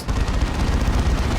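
Frag Assault ability firing from a Land Raider Redeemer in the video game Dawn of War 2: a dense, continuous barrage of rapid gunfire bursts and low rumbling booms, loud and steady throughout.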